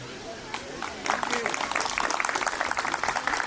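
An audience at an Irreecha celebration in Edmonton breaks into applause, starting as faint scattered claps under talk and swelling after a second into a steady, moderately loud clapping that continues to the end.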